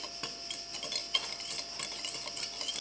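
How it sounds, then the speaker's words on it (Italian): Salt is stirred to dissolve it in water in a mixing bowl for focaccia dough, making quick, close, irregular scraping and light clinking with soft sloshing underneath, and no voices. "Aggiungo 10 g di sale e lo faccio sciogliere."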